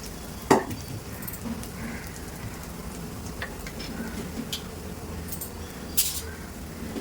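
Dahi vada batter fries in hot oil in a wide kadhai, giving a steady crackling sizzle with a few sharp pops and spatters, close and moderately loud.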